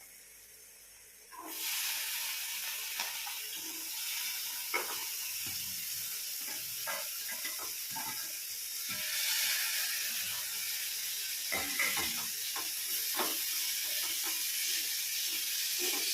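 Pre-boiled abai bean pods drop into a hot pan and set off a sudden steady sizzle that holds and hisses on, with scattered crackles and light stirring scrapes over it.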